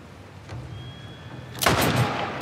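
A powerful firearm in The Last of Us Part 1 fires one loud, booming gunshot with a sharp crack and rumbling tail, following a stretch of low game ambience.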